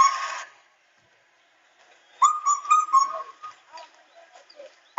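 A person whistles an imitation of the kafal bird's call during a Hindi folk tale, a short run of clear, close, warbling whistled notes rising and falling after a brief sound and a near-silent pause.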